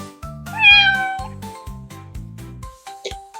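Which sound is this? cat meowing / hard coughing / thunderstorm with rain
cat meowing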